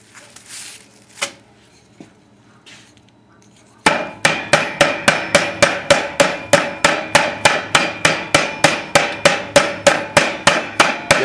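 A turkey cutlet is pounded thin for paillard with steady, evenly spaced hard thuds from a meat mallet, about three per second. Loud and close, they begin after a few seconds of quiet kitchen handling and carry on without talk.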